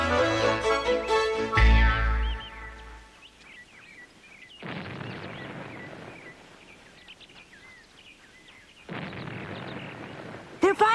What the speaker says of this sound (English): They're firing the ferry boat cannon.